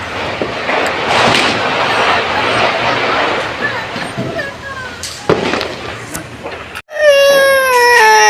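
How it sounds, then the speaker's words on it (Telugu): A small child cries loudly during Diwali celebrations while firecrackers crackle and people chatter nearby, and a high, sustained wail comes through clearly near the end. "మిల్కీ అయితే ఎంత వేడుకు ఏడుస్తుంది"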